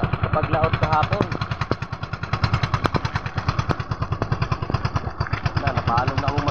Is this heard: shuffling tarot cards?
no